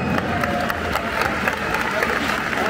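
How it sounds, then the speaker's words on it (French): A stadium crowd at a Stade Rennais versus Lyon football match applauds as player Damien Silva comes on, forming a steady wash of clapping and crowd noise with brief cheers running through it. "Les applaudissements pour Damien Silva"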